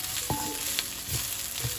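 Rice frying in mustard oil is stirred in a pan, crackling sizzle broken by brief scraping stirs, close and fairly quiet.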